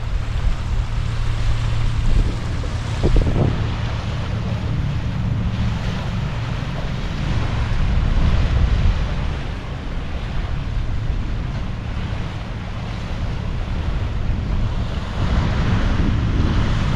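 Lake waves wash against the breakwall of the lower harbor in Marquette, Michigan, a continuous loud surf roar mixed with heavy wind buffeting the microphone, with no speech.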